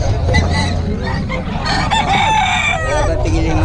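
A rooster among chickens being sold crows loudly and close, one long drawn-out call over a busy outdoor background with other fowl clucking nearby.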